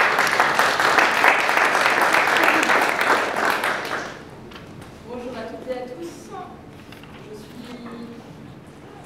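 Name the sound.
conference audience applauding the speaker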